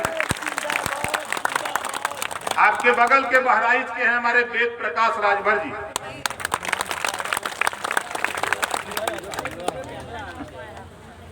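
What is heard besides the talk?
crowd applauding at a political rally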